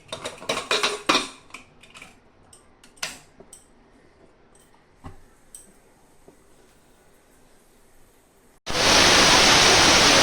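A pressure cooker of chickpeas for chole is preceded by scattered metallic clinks and clatters. Near the end its whistle bursts in as a sudden loud, sustained hissing blast that runs to the end.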